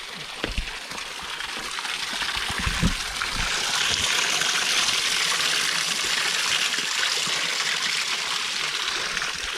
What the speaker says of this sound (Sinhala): මේ වගේ ලස්සන වතුර පාරවල් එහෙම හම්බ වෙන පාරේ.